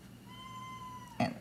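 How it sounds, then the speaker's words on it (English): A house cat meows once, a thin drawn-out call close by in a quiet room where candle wax is being melted, followed by a brief soft rustle. "and I have a cat under my feet."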